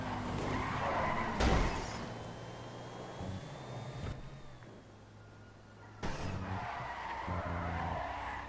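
Car tires skid and squeal in GTA Online, a loud, sustained screech with engine noise that fades midway and then surges again, with a sharp crash or shattering burst near the start.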